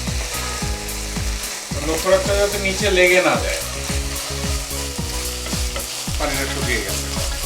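Chicken and mushroom pieces sizzle steadily in a hot pan while a spatula scrapes and stirs them in repeated strokes, close and fairly loud, with no talking.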